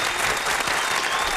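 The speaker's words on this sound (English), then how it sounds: "Give that round of applause." Brief, steady audience applause after a live song performance in a studio setting, a continuous wash of clapping without speech.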